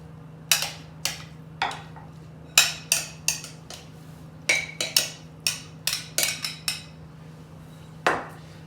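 Ramen plated into a rustic bowl: a string of sharp, close clinks and taps of utensils against ceramic, irregular and spaced out over a low steady hum, with no talking.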